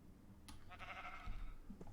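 A sheep bleats once in Minecraft, a short wavering game bleat heard alone at moderate volume.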